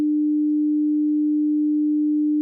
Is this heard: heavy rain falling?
no